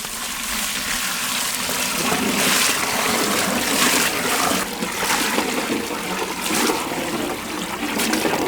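Water poured into a cooking pot while making a village-style vegan oil brinjal dish with tomato, a continuous gushing, splashing stream that stays fairly loud and steady throughout with slight surges.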